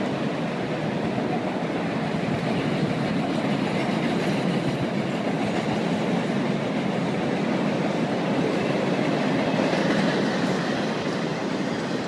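Steady roar of a train passing at Harpers Ferry, West Virginia, wheels clattering on rails at a constant loud level throughout, with a faint squeal underneath.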